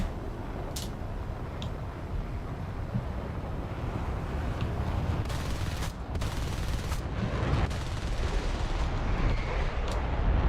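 Aircraft guns firing during a War Thunder air battle: dense, sustained rattling bursts mixed with rushing wind noise, steady and loud throughout.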